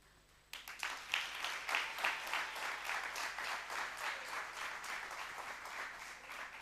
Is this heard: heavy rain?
no